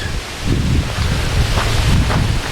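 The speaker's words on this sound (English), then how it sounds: "It's awfully windy." Steady wind buffets the microphone in a continuous low roar, loud and close, with gusts swelling throughout.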